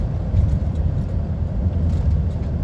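A truck overtaking on the A66 road in Cumbria, heard from a lorry cab as a deep, steady rolling rumble that swells slightly as it passes, with no talking.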